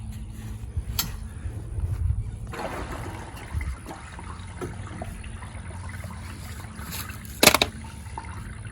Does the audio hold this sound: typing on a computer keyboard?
no